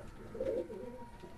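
A single soft, low coo from a pigeon, one of a pair of racing pigeons kept for flying, sounds briefly near the middle, faint against a quiet background with no one talking.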